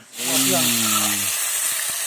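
A loud, steady sizzle of food frying in a pan, with a voice speaking briefly over the first second.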